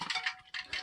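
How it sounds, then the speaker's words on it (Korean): Ice cubes clinking against a glass of chilled pu-erh tea, a few light bright chinks in short bursts, close and fairly soft with no talking. "이거 얼음 소리 들리시나 모르겠는데"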